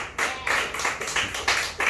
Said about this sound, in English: Let's also give a round of applause to the Acid Underground